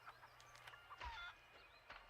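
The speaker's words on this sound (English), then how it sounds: "I just killed a chicken." A chicken clucks in the PS2 game The Bard's Tale, giving a few short, scattered calls and squawks over a low game hum, then a louder burst as it is killed.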